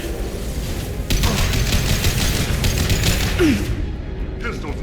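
Rapid bursts of gunfire crack through a firefight in the video game Mass Effect 2, loud repeated shots in a dense volley that thins out near the end, alone without talk.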